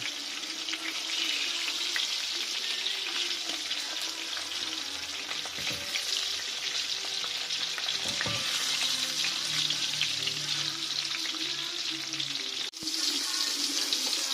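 Pieces of pork neck brown in a frying pan with a loud, continuous sizzle heard up close, with a few brief knocks and stirring sounds and a short dip near the end.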